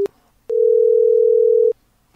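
A telephone dial tone sounds after the caller hangs up: a short click, then one loud, steady, unbroken tone lasting just over a second before another click cuts it off.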